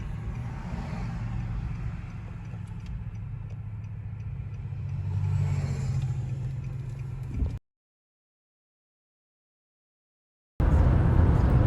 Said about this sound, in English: So I am driving into the city of Fort Worth.